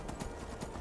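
Horse hooves clopping in Skyrim survival mode, a quiet run of soft, fairly even thuds over a low, rumbling game backdrop.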